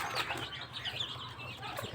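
Young Muscovy ducklings calling while being given zinc water, rapid high peeping calls close by, with no talk.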